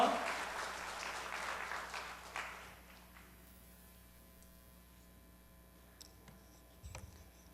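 A church congregation at a Sunday worship service breaks into loud applause that fades after about two and a half seconds, leaving a steady mains hum, a few faint clicks and a soft thump near the end.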